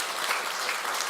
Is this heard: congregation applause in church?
yes